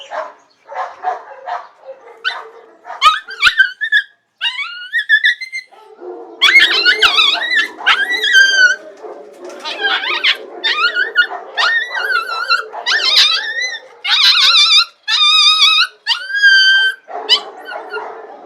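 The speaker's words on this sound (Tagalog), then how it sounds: "Ganito yung tunog na aso nila." Guardian puppies growl, whimper and yip close up in a run of high, wavering whines and rough growls that come in bursts separated by short pauses.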